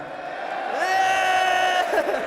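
Esports arena crowd at a Call of Duty League event in London cheers, a swelling roar of yells and whoops that builds and holds, loud and sustained.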